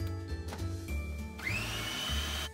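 Blender whizzing soy yogurt and maple syrup in a kitchen, a steady motor whir rising in pitch midway and holding close and moderately loud for a couple of seconds.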